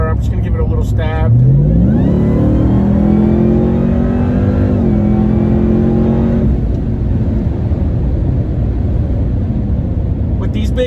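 A Ram TRX pickup with over 700 wheel horsepower and big tires accelerates hard from 60 mph in 8th gear, its loud engine note climbing steeply and then holding a strained, sustained roar from inside the cab.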